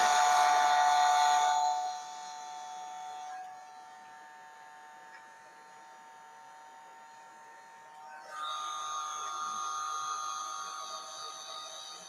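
A heat tool's steady whirring motor drone with a buzzy whine, loud at first, then quieter through the middle before swelling back up. No one speaks.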